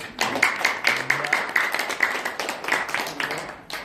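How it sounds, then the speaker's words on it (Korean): Audience clapping at a talk-show event in Korea, a crowd of hands beating in a brisk, roughly even rhythm of sharp claps that carries on steadily for several seconds. "박수 한번 주세요."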